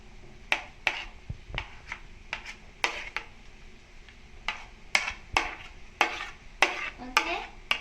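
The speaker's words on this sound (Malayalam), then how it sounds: "ഇതിലോട്ട് നമ്മളുടെ തക്കാളി കുട്ടനെ ചേർത്ത് കൊടുക്കാം." Tomato is stirred into fried onions in a pan, producing a string of sharp spoon scrapes and clacks against the pan over a faint sizzle, spaced irregularly and close.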